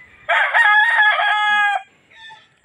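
An Allen Roundhead rooster gives a single loud, close crow of about a second and a half with a clear rising and falling contour, then goes quiet.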